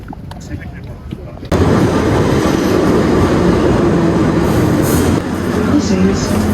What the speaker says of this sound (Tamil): இப்போ ட்ரெயின் எடுக்க போகிறோம் லண்டனுக்கு.